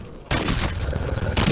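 Loud, sharp reports of a Longbow sniper rifle in Modern Warfare 3 Zombies: a sudden blast after a short quiet lead-in, with a rumbling tail and another crack near the end.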